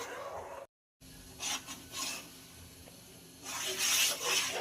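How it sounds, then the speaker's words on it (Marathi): A spoon scrapes and rubs around a pot of sabudana kheer with milk heating on the stove, soft intermittent stirring strokes close by, with quiet gaps between them. "आपल्याला सारखं असं फिरवत राहायचं आहे"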